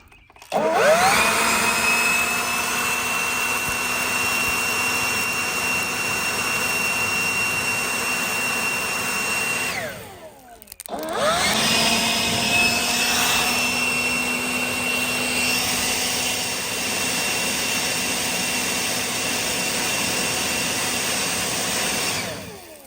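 Steady loud rushing of air blown across a burning tree stump, a continuous roar with a brief dip and restart midway, no speech.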